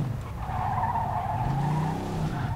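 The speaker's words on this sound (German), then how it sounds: "driften sollst du auch nicht jetzt" In Mafia 2, a classic car drifts with a loud, continuous tire squeal and skid over a low engine rumble, sustained for a couple of seconds, close and prominent.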